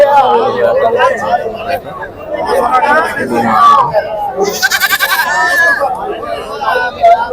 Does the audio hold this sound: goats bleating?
yes